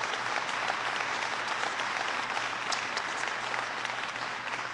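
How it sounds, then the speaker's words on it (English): An audience at a North Carolina jobs and economy event with Obama gives loud, sustained applause. The dense clapping stays full and even throughout, with no voice over it. "Please give her a big round of applause."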